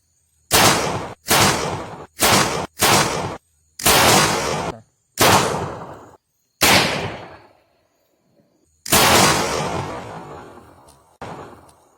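A homemade Yemeni firework rocket explodes in a rapid string of about eight loud, sharp bangs, each trailing off into a brief crackling hiss, with short gaps before a final longer, rumbling burst and one last pop.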